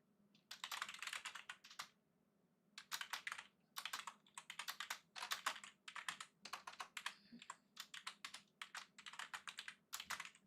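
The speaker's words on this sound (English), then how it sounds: "I'm mostly typing this in on the portrait one and pinning it" Rapid bursts of close, crisp keystrokes on a computer keyboard, clattering in uneven runs separated by brief pauses, with no one speaking.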